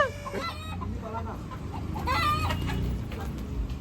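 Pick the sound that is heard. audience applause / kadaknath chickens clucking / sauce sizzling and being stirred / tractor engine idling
kadaknath chickens clucking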